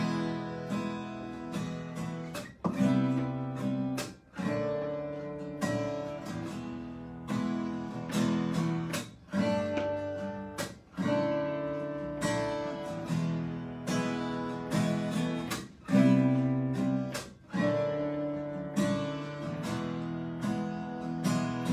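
A Breedlove concert-shape acoustic guitar is played solo, with repeated strummed chords ringing out in a steady rhythm and brief pauses between phrases, close and clear, with no talking.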